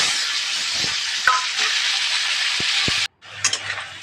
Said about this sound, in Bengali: এই আলুটা এখন আমি ভেজে নেব